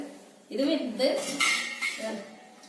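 Heavy steel cooking pots clank and scrape together in a few close, ringing knocks as they are handled.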